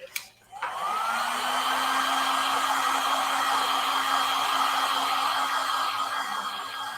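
Hair dryer-type heat gun starting with a click and then blowing a steady, loud whooshing hum while it warms a rigid WoodUbend moulding to soften it.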